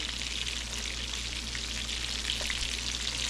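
Snapper fish frying in hot oil, Jamaican style, giving a steady, close, continuous sizzle with fine crackling pops throughout and no voices.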